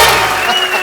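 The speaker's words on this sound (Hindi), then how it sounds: "एक बार सनी बाजी और बॉबी बाजी के लिए जोरदार तालियां हो जाए" Studio audience applause on a comedy talk show for guests Sunny and Bobby Deol, a brief dense wash of clapping filling the room at steady volume.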